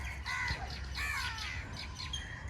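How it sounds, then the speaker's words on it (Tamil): Several harsh crow caws ring out over a steady low outdoor rumble, spaced irregularly and fairly close. "காக்காங்கெல்லாம் வந்துருச்சு பாருங்கள்"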